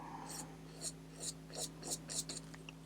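A finger rubs wet paint across paper in a mixed media collage, making a steady series of soft, close scratchy strokes in a quiet room.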